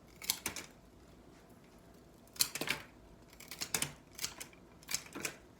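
Scissors or shears snip through the bottoms of flower stems while prepping a bouquet: a handful of crisp, close cuts in small clusters with short pauses between them.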